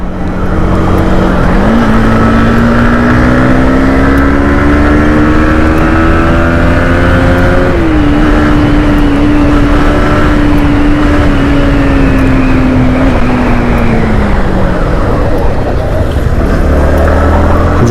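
A Yamaha MT-15 motorcycle fitted with the R15 engine accelerates on the road, its loud, close engine drone climbing in pitch, briefly settling after a gear change, then pulling steadily again.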